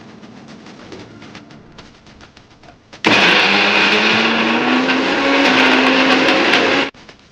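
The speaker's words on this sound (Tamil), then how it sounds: "நம்ம ஆற வச்ச இந்த புதினாவை மிக்ஸி ஜார்ல போட்டுக்கலாம்" A mixer grinder blending mint chutney whirs loudly at high speed for about four seconds, then cuts off abruptly, with quieter clattering before it starts.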